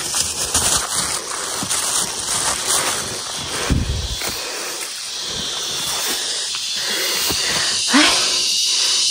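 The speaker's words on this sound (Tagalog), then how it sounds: "Hinihingal na po ako." A person walking through a coconut plantation pants heavily and steadily throughout, with hissy breath sounds close to the microphone, broken by a few footstep thumps and rustles.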